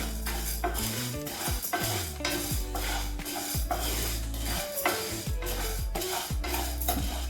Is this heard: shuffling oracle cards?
no